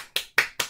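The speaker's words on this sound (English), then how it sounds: "let's clap" Three sharp, close hand claps land in an even rhythm, each one crisp and quickly decaying, with nothing else around them.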